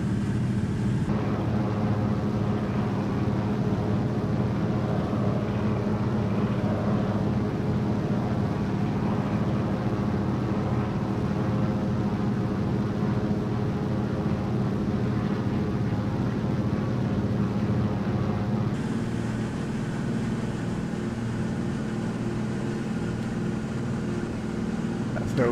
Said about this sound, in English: I can't say I've ever heard simulated aircraft sound quite as good as that.